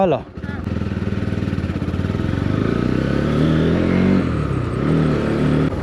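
A motorcycle engine runs steadily and loudly while being ridden, a constant low throbbing drone close by, with people talking over it.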